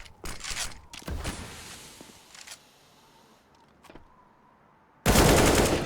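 Gunfire in a Counter-Strike match on the Nuke map: sharp bursts of rapid shots in short clusters with quiet gaps between, ending in a loud sustained volley, and no commentary over it.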